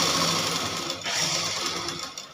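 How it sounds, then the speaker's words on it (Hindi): A sewing machine runs steadily and close up, stitching the rounded edge of a party-wear lehenga blouse, with a brief dip in its whirring hum partway through. "हमें इस पे सिलाई लगानी है और हमें इसकी राउंड शेप का बहुत ध्यान रखना है।"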